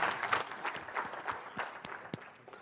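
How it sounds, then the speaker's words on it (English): Thin, scattered applause from a conference audience after a speaking-competition talk at a tech summit, individual claps standing out sparsely and quietly, tapering off within a few seconds. "Thanks for the applause."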